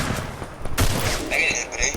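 Gunfire in the mobile battle royale game Free Fire, with a dense burst of rapid shots and booms, while players talk over the fighting.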